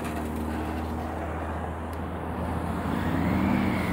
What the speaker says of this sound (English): needs to take that car off the road